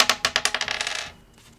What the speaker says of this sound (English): I suppose we'll roll dice again to see who's going to go first.